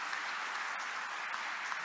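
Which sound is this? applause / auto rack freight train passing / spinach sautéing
applause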